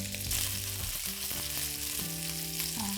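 Chicken pieces frying in a pan while cooking until the meat turns white, a steady dense sizzle running throughout, close and even, with faint tonal hum and occasional utensil touches and no talking.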